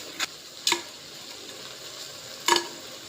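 Drumstick leaves and coconut stir-fry being stirred in a pan with banana flower: a few sharp scraping clicks of a spoon against the pan over a soft, steady sizzle, close by, with no talking.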